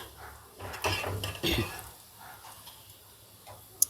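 Masala peanuts tipped from a hot pan into a large bowl and stirred, giving a few bursts of rattling, scraping clatter with a sharp tick near the end, under faint background noise.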